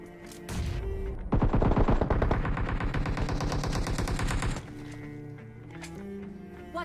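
Gunfire in PUBG Mobile on the Erangel bridge: a few single shots, then a loud, rapid automatic burst lasting about three seconds before dropping to a quieter in-game background.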